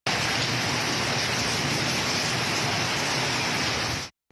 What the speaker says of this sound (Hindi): गुज़िश्ता रात अब्रे करम खुलकर बरसा, जिससे जल थल एक हो गया।